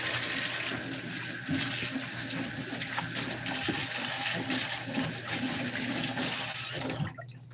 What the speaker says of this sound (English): I'm just washing the grease off my hands.